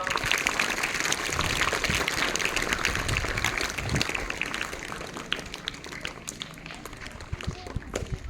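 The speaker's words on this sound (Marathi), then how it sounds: "जोरदार टाळ्या वाजवा बाळांनो" Schoolchildren clapping at a primary school function, a sustained burst of dense applause throughout, thinning slightly toward the end.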